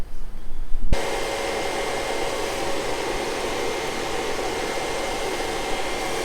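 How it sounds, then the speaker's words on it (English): Electric fan rated around 430 CFM pulls air through a small intercooler in a TDI-swapped Volkswagen Vanagon, switching on after a brief click and then holding a steady, loud, broadband whoosh with a faint whine, no talking. "I think this fan is rated for like 430 CFM, so it is flowing a lot of air through this little tiny intercooler."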